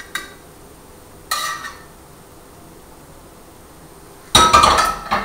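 Scrambled eggs with cauliflower being served onto two plates: a utensil scrapes and clinks against the dishes in three short bursts, with the final one longest and loudest, separated by quiet pauses.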